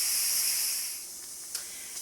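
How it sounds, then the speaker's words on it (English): Pressure cooker venting steam through its valve while stuffed flank steak rouladen cooks inside: a steady loud hiss that fades after about a second, then continues softer with a couple of small puffs. "It is releasing steam to release the pressure in the pot."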